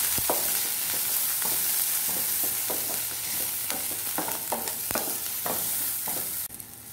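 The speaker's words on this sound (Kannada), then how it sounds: "ಸ್ವಲ್ಪ ಇಂಗು ಹಾಕ್ಕೊಳ್ಳಿ. ಹಾಕಿ ಫ್ರೈ ಮಾಡಿ." Asafoetida and masala dosa filling frying in oil, a continuous crackling sizzle broken by frequent sharp spatula taps and scrapes against the pan, close and lively, without any speech.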